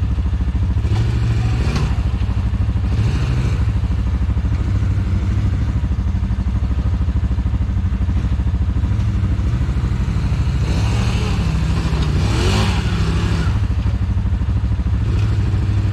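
An off-road vehicle's engine drones loudly and continuously as it drives through a river, with revs swelling and easing over a constant low rumble and some clattering, heard up close without talk.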